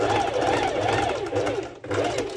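A home sewing machine stitches a mesh overlay onto a sporty top, running in steady rapid pulses that briefly pause and restart, with a voice talking over it.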